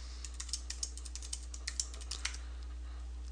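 Fingers tap out a password on a computer keyboard in a quiet room, a run of light, fairly even keystrokes over a low steady hum, with no talking.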